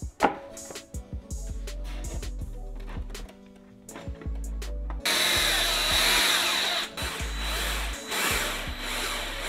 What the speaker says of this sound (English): what we did was drilled pocket holes on one side and joined them together with glue and screws